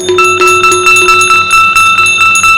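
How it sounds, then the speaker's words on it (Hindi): A bell rings at a Ram Katha religious gathering, struck repeatedly in a quick, steady rhythm, loud and close, bright metallic strokes overlapping with no speech. "घंटी बजना शुरू हो गई।"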